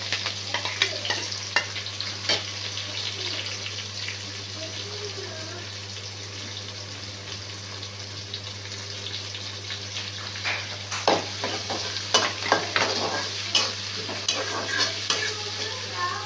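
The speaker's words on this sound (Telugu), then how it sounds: "ఉల్లిపాయ, కరివేపాకు వేసాక వేగిన తర్వాత టమాటా వేద్దాం." Chopped onions and curry leaves sizzle steadily in hot oil for Nellore fish curry, with a utensil scraping and stirring in irregular bursts, close and moderately loud under a constant low hum.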